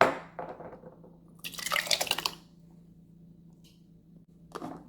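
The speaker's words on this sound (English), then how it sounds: "And I'm going to pour that into a jar." A short stream of tomato vinaigrette pours into a glass jar, a close, bubbling trickle lasting about a second, with light clinks before and after.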